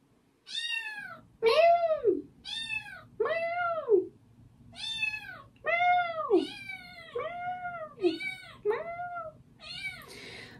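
Kittens meowing in a busy run of about a dozen loud, close, drawn-out cries, one after another with short gaps, over a faint low hum.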